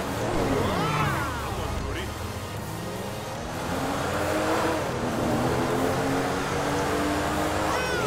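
Car engine in Grand Theft Auto V, a Porsche-like sports car, revving and changing pitch with tyre noise throughout, with someone talking over it.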